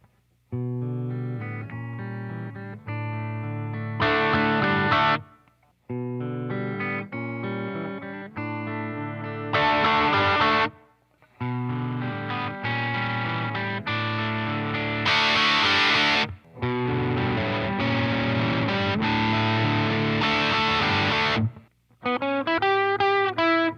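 Heavily driven electric guitar chords and riffs, crunchy and saturated, played in phrases with brief gaps between them.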